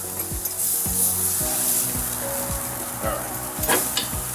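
Ribs browning on a grill, turned over to sear the second side, give off a steady close sizzle with repeated scraping strokes running through it; a voice speaks a couple of words briefly.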